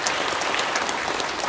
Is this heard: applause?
yes